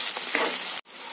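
Meat paste fries and sizzles in a hot wok with a loud, dense, continuous hiss and stirring scrapes, broken by one brief drop to silence near the end before the sizzle resumes.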